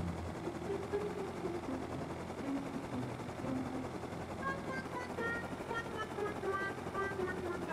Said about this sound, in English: took my heli to the outpost to refine there